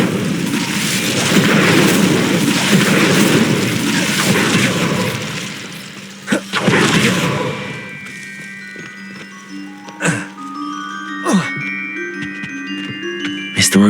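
The Incendio fire spell cast in the Hogwarts Legacy game, a loud roaring burst of flame lasting several seconds, then fading to quieter sparkling tones and brief pops.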